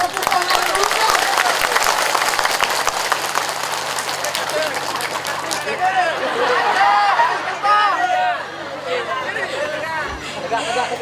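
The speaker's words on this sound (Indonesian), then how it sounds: "Tepuk tangan dulu" Applause from the audience at a public Islamic religious gathering in Bandar Agung village, Lalan, greeting the Banser members: dense clapping for about five seconds, then thinning into crowd chatter and voices.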